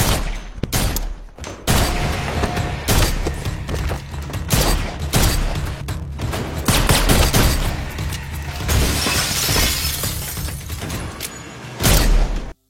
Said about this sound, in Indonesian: Semua tembakan yang ia lakukan pasti mengenai sasaran